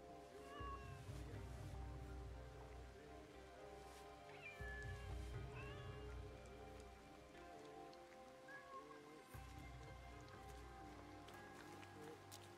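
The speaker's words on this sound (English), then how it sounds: "Oh, I can pet the cat." A cat meows softly a few times against steady rain and a low rumbling background, faint and somewhat distant, with no talking.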